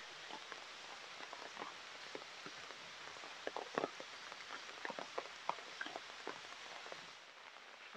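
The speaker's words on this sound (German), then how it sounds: "Wie ihr sehen und vor allem hören könnt, wird der Regen immer intensiver." Steady heavy rain pours down in Thailand, a dense hiss with scattered drops pattering and tapping on nearby surfaces, fairly soft and continuous.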